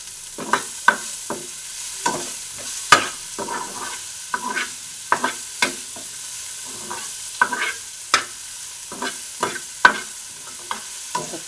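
Egg roll filling frying in a pan, with repeated scraping stirs of a spatula over a soft sizzle; the strokes come in an irregular rhythm, close and fairly clear, with no voices.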